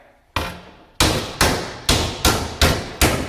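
Loud hammer blows on a creased metal sump guard from a Royal Enfield Himalayan motorcycle: seven sharp strikes with ringing decay, the first pair spaced apart and the rest in a steady, quickening rhythm.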